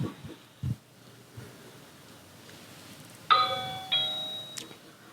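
A doorbell chime from a doorbell camera recording, a bright two-tone ding-dong heard twice in the second half, preceded by faint rustling and a few muffled knocks.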